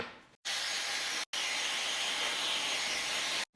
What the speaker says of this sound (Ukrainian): Воно ж трошечки вологе, тому його треба просушити феном.